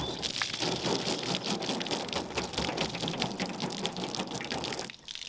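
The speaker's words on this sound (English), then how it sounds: "So let's see what happens when we throw some water on there." Water thrown onto a ceramic-coated Tesla, splashing and pattering across the car's surface in a steady, close rush that trails off near the end.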